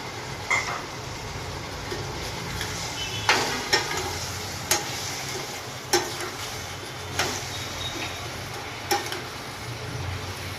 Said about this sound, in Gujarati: દાળ, ટમેટાં, મરચાં વગેરે જે આપણે તૈયાર કરીને રાખેલું છે તે પણ હવે અંદર ઉમેરી દઈશું